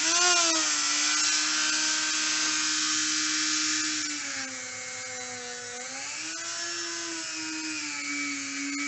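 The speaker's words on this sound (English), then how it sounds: "here goes the flap wheel" Flap wheel on a high-speed rotary tool smoothing the intake ports of a motorcycle cylinder head, a steady close whine that dips and rises in pitch as the load changes, with no talk.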